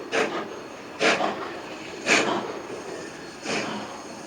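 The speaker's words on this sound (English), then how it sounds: "a steam engine, built in 1938, would bring out so many people to watch her huff and chuff her way proudly into the center of town" A 1938 steam engine of the Southern Pacific Railroad chuffs in four distinct, evenly spaced exhaust bursts about a second apart, each a broad hissing puff heard at moderate distance.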